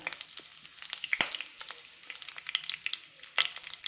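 Cinnamon and fennel seeds fry in hot oil in a pan already crackling with mustard seeds, giving a steady light sizzle with scattered sharp pops and one louder crack near the start, close up and without voices.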